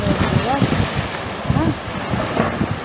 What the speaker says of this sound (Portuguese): Olha lá, olha o barulho da água, Nico, vai.